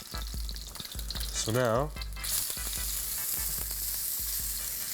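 Food searing in a frying pan with a steady, loud sizzle that continues throughout, with a brief voice cutting in partway through.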